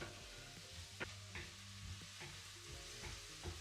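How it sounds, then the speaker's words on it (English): Onions and garlic frying in olive oil in a warm pan, a steady soft sizzle with occasional stirring scrapes, quiet and close, with no talking. "my pan is already warm, so I'm gonna cover the bottom well with olive oil and add in the onions and the garlic"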